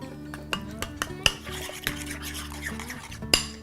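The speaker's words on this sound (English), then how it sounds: "And we're gonna mix this all in." Dressing with dill, salt and pepper mixed in a bowl: a utensil scrapes and clinks rhythmically against the sides, close and clear with sharp knocks, and no voice over it.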